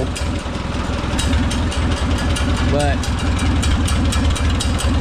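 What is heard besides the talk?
Oliver 66 tractor engine idling after Marvel Schebler TSX carb rebuild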